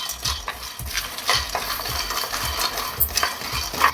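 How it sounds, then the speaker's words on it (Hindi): Peanuts, red chillies and ginger dry roasting in a pan over a slow flame, stirred with steady rhythmic scraping and light clinks of the spoon against the pan, close and moderately loud, with no talking. "तब तक मूंगफली की नमी नहीं निकल जाती, तब तक मूंगफली को भुनेंगे"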